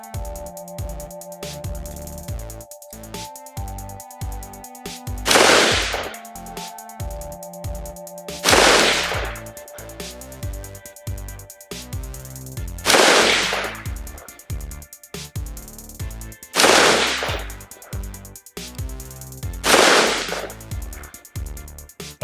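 Five loud rifle shots from a BCM Mk12 SPR firing Gorilla 69 grain Sierra Match King rounds, evenly spaced about three to four seconds apart, each a close sharp crack with a short echoing tail over steady background clatter.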